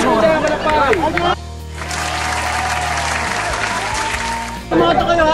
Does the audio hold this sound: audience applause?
yes